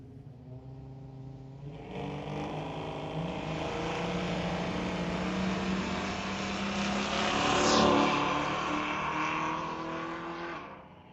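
A little Blazer race car accelerating down a drag strip, its engine note climbing as it roars past loudly, then fading away into the distance.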